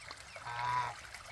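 A short nasal honk from a goose, moderately near, over a soft watery trickle in the background.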